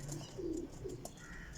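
Diamond pigeons from a breeder pair coo softly in a low, faint burst of two quick rolling notes, heard alone without any talking.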